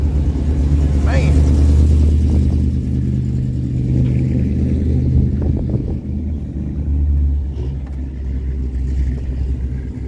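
Big-block V8 in a 1967 car rumbling loud and close at a car show, with a rev swell early on and steady low idle throughout, mixed with crowd noise and nearby talk.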